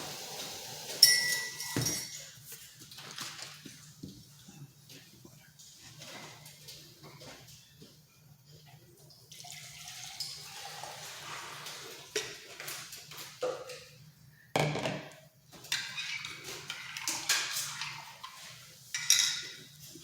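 A spoon stirs Folgers instant coffee in a glass, giving scattered light clinks against the glass between quiet pauses. The clinks are fairly faint and irregular, with no talking.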